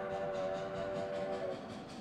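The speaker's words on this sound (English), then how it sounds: "Can I blow the whistle? Oh, this one has a better whistle." An Amtrak train whistle in a Roblox video game sounds one sustained, steady multi-tone blast that tapers off near the end, fairly quiet and with no talking.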